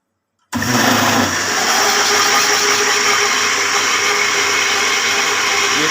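A blender grinds Punjabi-style pakora kadhi ingredients with water, starting abruptly after a half-second of silence and then holding a loud, steady motor whir with a rough grinding texture.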